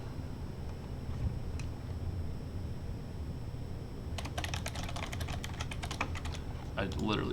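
Rapid clatter of keystrokes on a computer keyboard, fairly close and brisk, starting partway through over a steady background hum, with a brief voice near the end.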